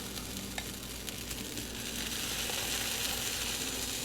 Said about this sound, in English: we'll get the mix loaded up into the waffle irons here